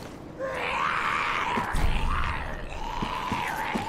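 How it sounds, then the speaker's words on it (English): Monster growling in the Dark Souls 3 video game, a sustained rough, groaning roar that swells and wavers over several seconds with low rumbling thuds underneath, fairly loud and close. "There's something like growling."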